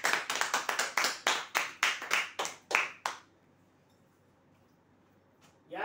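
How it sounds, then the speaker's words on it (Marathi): About a dozen separate claps at a weekly lucky-draw event honoring a prize winner, evenly spaced and fairly close, then stopping abruptly into near silence. "जोरदार टाळ्या वाजवण्यासाठी"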